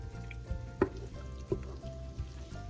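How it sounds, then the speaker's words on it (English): Tomato bisque sizzles faintly in a pot as it is stirred, a low crackling bed broken by a few sharp spoon knocks, with no talk. "And you can start to hear a slight sizzle."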